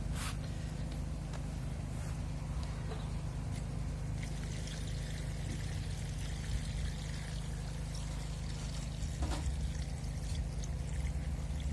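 Salt-water brine pours steadily into a bucket, a soft continuous splashing over a low background hum, with a few faint knocks.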